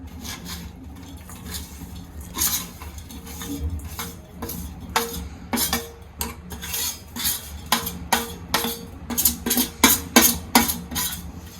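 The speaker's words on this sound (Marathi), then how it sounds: "यानंतर आपल्याला हे चांगलं मिक्स करून घ्यायचं आहे जोपर्यंत गूळ आणि आपलं खोबरं एकजीव होत नाही तोपर्यंत याला चांगलं परतून घ्यायचं आहे" Jaggery, grated coconut and chopped cashews and almonds are stirred and sautéed in a pan for a modak filling, with a spoon scraping and clinking against the metal in irregular strokes that grow busier and louder toward the end.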